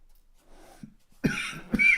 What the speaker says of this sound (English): I don't need to cough again.